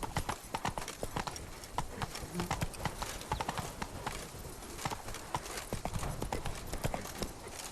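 Horse hooves clip-clop steadily at a trot in The Witcher 3 Blood and Wine, a continuous rhythmic patter of hoof strikes with faint ambient game sound, no talk.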